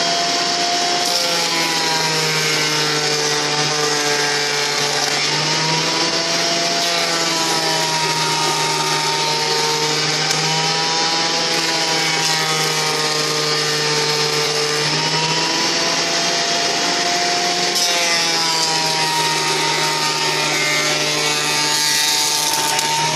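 A woodworking thickness planer feeds wood through its cutters, making a loud, steady, close-up mechanical roar with a tonal whine. It holds almost unbroken for over twenty seconds with slight shifts in pitch and no talk.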